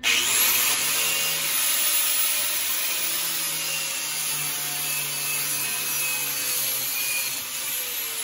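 A small grinder works down bare metal on a bus roof during a DIY roof raise, giving a steady, continuous high-pitched grinding whine that runs throughout without pause.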